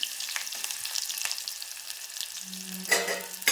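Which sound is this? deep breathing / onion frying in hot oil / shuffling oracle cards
onion frying in hot oil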